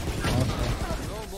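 Gunfire in a fast online shooter match, with bursts of shots and rattling weapon noise close in the mix, overlapping with excited player voices talking.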